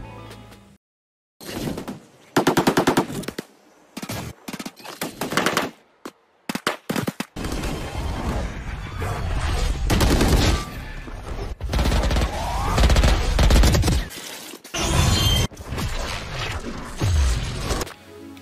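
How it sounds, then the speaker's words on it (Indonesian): Bursts of video game gunfire, rapid automatic shots in uneven volleys, loud and close, with short gaps and thuds between the firing. "Lu lihat kayak suara tembakan mainan-mainan gitu ya, aneh ya suaranya ya"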